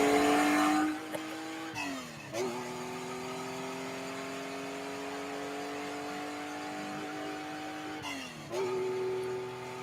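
A car engine revs and holds a steady high drone, dipping and rising in pitch twice as it shifts, with a muffled, somewhat distant quality throughout.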